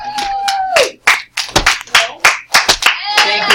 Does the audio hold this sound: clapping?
yes